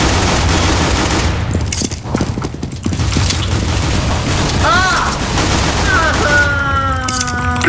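Gunfire in the CS:GO video game, rapid bursts of shots and mechanical clatter over continuous loud game noise, with pitched electronic tones near the end.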